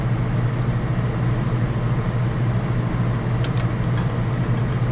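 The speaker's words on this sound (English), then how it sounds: "I know it's loud right now because the air conditioner's going" Air conditioner running indoors, a loud, steady low hum and broadband whoosh that holds constant, with a few faint ticks near the end.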